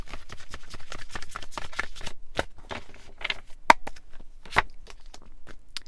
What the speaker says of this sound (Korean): 메시지 카드 한번 뽑아볼게요.